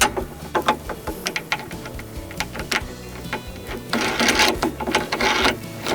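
A nut and bolt being tightened on the handlebar of a Cobra RM51SP80V cordless lawn mower, with repeated close metallic clicks and ratcheting bursts growing denser toward the end.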